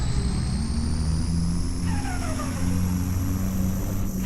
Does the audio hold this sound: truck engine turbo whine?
yes